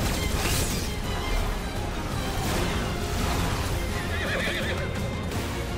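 A horse whinnies in Final Fantasy XVI over a dense, loud wash of game noise and rumble, with clattering hoof-like sounds mixed in.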